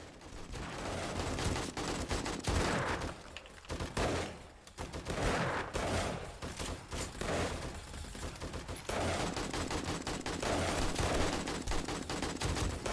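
Rapid AK rifle fire in the survival game 7 Days to Die during a zombie horde night, loud repeated bursts and strings of shots with brief pauses, filling the scene without talk.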